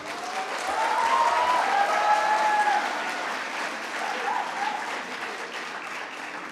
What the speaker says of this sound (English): A big round of applause for this dedicated, enterprising, innovative, and the most amazing group of people, the Team Spectrum 2022.